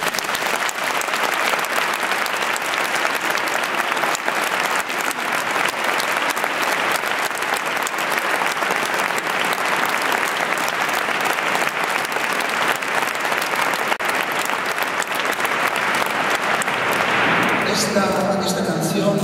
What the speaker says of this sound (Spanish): un fortísimo aplauso para el organista de esta catedral